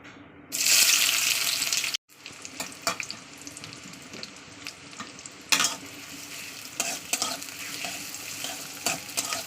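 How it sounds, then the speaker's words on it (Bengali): Onion hits hot mustard oil with a loud, bright hiss that cuts off abruptly, followed by a lower ongoing sizzle with scattered scraping and clattering stirring sounds. "তেলটা আমার গরম হয়ে গেছে, আমি এবার এতে পেঁয়াজটাকে দিয়ে দেবো।"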